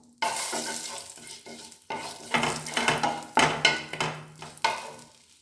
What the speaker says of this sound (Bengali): এই যে তেল গরম হয়ে গেছে, আমি তেজপাতাটা দিয়ে দিলাম।